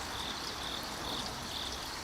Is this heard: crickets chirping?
yes